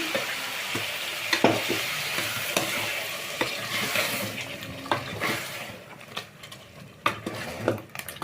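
Ground spice paste frying in a pan for a temple-style lentil sambar, close sizzling under busy stirring with spoon clinks and scrapes against the metal, steady then easing toward the end.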